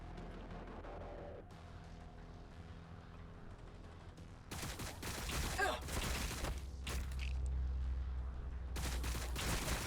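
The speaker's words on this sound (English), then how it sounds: "We're taking fire." Heavy gunfire erupts in the Warhammer 40,000: Battlesector video game, with irregular loud volleys and explosive bursts breaking over a low rumbling battlefield drone during the second half.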